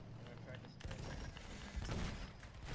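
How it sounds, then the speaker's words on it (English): Anti-aircraft gun firing in a video game, a burst of rapid thudding shots and booms at moderate distance, with a voice talking underneath. "How is this anti-aircraft gun seeing us?"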